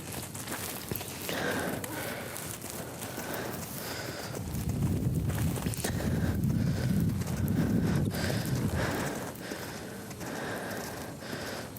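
Horse moving around an arena during a riding lesson at a farm, with steady hoof thuds and occasional snorts, louder in the middle stretch, while an instructor's voice carries faintly in the background.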